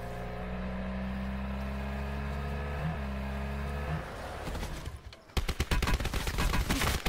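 An MP40 submachine gun in Call of Duty Black Ops 4 Blackout fires a fast, loud burst of close shots after a long stretch of steady droning engine hum that cuts out.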